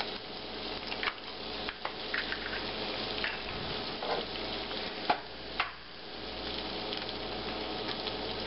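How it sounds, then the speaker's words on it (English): Eggs sizzle in a hot pan with heated ham, a steady close frying hiss with occasional stirring clicks and scrapes throughout, no voices. "Ham is hot. That's all it needs to be heated. And I'll break three eggs into it."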